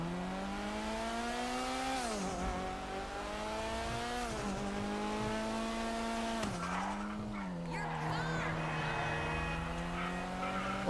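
A car in the video game GTA 5 revs its engine and skids, its tones rising and falling through repeated gear changes while the tires squeal, loud and steady throughout.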